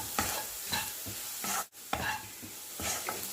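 Egg fried rice is being tossed in a hot pan, giving a steady sizzle under repeated scraping stir strokes in a loose rhythm. One brief silent break cuts in partway through, and no one speaks.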